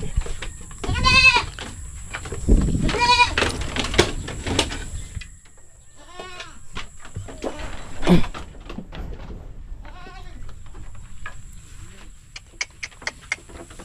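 Goats bleating on a farm in light rain, several loud, wavering calls near the start, then scattered fainter bleats and small knocks, with brief quiet stretches between.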